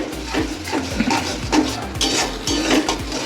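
A spatula scrapes and clatters against a pan as sarputi fish mustard masala is stirred, with repeated close metallic knocks and scrapes in an uneven rhythm and no talking.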